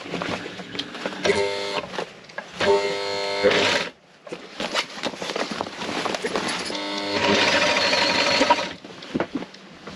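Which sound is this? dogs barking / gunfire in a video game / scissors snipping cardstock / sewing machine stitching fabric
sewing machine stitching fabric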